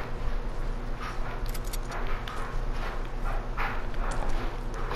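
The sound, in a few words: footsteps in Fortnite video game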